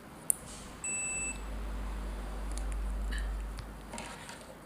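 A multimeter's continuity buzzer, set up to test the fuse of a dead Ni-MH cell charger, gives one thin, high beep lasting about a second over a low background hum.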